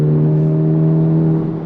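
A Honda Civic Type R FL5 with an aftermarket catback exhaust and an otherwise stock engine holds a loud, steady rev with a strong droning note, close and alone.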